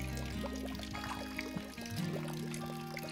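Water running and dripping off canvas water filter bags at an outdoor bushcraft camp, a steady soft trickle and patter with no talk over it.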